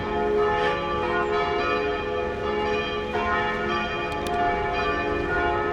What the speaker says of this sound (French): On a de nouveau droit aux cloches